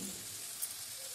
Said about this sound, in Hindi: मसाले डालकर अच्छी तरह से मसालों को भून लेंगे।